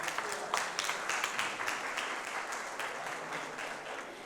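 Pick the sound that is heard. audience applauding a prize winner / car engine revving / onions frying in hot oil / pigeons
audience applauding a prize winner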